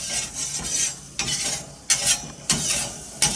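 Artichokes are stirred on a hot griddle plate, with a steady sizzle and repeated sharp scrapes of a utensil against the metal at irregular intervals.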